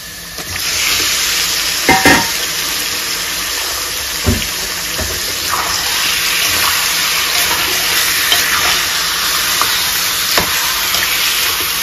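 Chicken goes into hot frying masala and is stirred, a loud, steady sizzle broken by a few sharp knocks and scrapes of a spoon against the pan.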